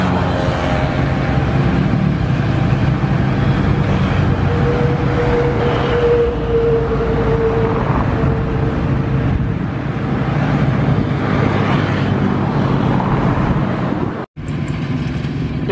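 A Yanmar AW70V combine harvester works a rice field beside the Madiun ring road, its steady loud engine drone blending with passing road traffic and motorcycles for the whole stretch, broken by one brief dropout near the end.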